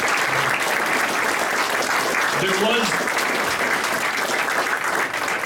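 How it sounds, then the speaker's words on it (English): Applause fills a community center's grand opening as the crowd claps steadily and loudly for the whole stretch, a dense continuous wash with a few voices mixed in. "let's give it a round of applause for just where we are right now"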